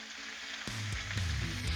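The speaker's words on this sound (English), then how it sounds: "right now, this bacon's going and it's smelling oh so good" Strips of bacon sizzling on a hot flat-top griddle, a steady close crackle and hiss with a few sharper pops, no talking.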